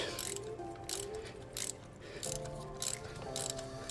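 A wrench ratchets in repeated short bursts as a thermostat housing bolt is tightened on a 1978 Lincoln Continental Town Car, the clicking close and steady over a faint mechanical hum.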